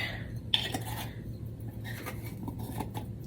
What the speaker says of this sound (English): Next one up is garlic powder. Let's give that a little shake.